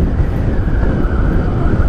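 Strong wind buffets the microphone in a loud, continuous roar with no voices.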